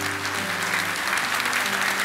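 Church congregation applauding for Jesus during a sermon, steady clapping that fills the room for about two seconds with no speech over it.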